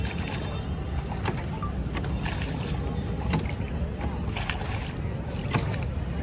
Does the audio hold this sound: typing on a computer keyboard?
no